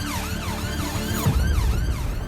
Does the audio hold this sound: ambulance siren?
yes